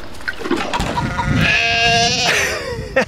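A sheep on a farm bleats loudly and close by, a long wavering cry after a few softer rustling sounds, with no talking.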